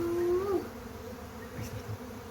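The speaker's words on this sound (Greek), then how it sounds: "Τις ακούς? Άκου το βόμβο" Honeybees swarm at a beehive entrance in a low, steady, close buzz that runs throughout, with one brief louder whine near the start.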